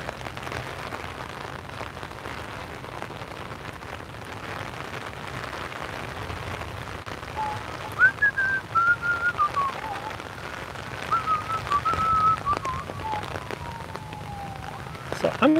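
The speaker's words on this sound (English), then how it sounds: "this rain's really picking up" Heavy rain falls during a storm near the White House in Washington DC as a constant hiss, with a rising and falling siren drifting in from a distance partway through and a few louder bursts of wind or movement.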